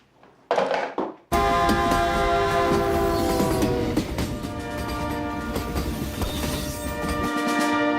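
A midnight train passes close by, sounding a loud sustained horn after a brief burst of noise, then rumbling and clattering wheels over the tracks continue steadily, with no one speaking.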